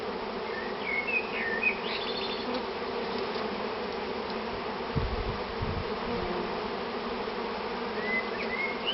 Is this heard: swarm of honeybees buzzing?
yes